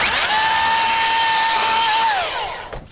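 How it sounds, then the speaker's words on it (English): A Milwaukee battery chainsaw runs close and loud at a steady high whine for about two seconds, then winds down as it is released, with no voices. "I seem to like it a lot running these chainsaws."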